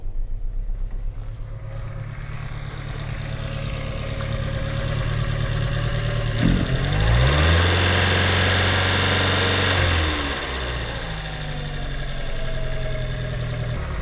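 A 1500 Austin Allegro Special engine running cold with no working choke, a continuous close mid-pitched idle with a rough, knocking texture that swells and settles into a steadier hum partway through.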